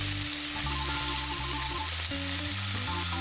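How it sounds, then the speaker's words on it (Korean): Thick-cut pork galbi sizzles and crackles steadily on a hot grill plate in a Korean barbecue restaurant, close up with continuous frying hiss and no talk, while quiet background music plays underneath. "지글지글 익어가는 소리에 저절로 귀를 쫑긋 기울이게 되는데요"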